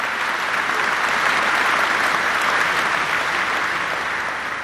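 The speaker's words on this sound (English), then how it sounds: "I think this deserves an applause." Dense, even applause from an audience at a battery factory groundbreaking ceremony, sustained and full throughout, easing slightly at the close.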